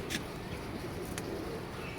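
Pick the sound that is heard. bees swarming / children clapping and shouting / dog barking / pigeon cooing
pigeon cooing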